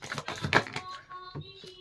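Tarot cards being shuffled by hand, a brief close flurry of papery riffling and flicking clicks that fades into a faint tonal ring.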